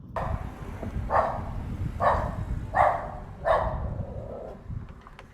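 A poodle barks at guests indoors, giving about five separate moderately loud barks spaced roughly a second apart over a low steady background hum, with no talking.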